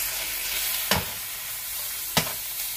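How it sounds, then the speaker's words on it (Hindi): Chicken frying in a little oil in a pan hisses steadily up close, with two sharp stirring or scraping hits a second or so apart over the constant sizzle. "इसमें मैं चिकन डालूंगी।"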